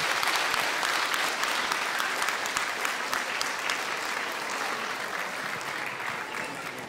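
A crowd at a kindergarten anniversary celebration in Petrinja in 2019 applauds the departing children, with loud, dense, sustained clapping that fills the whole stretch and eases off slightly toward the end.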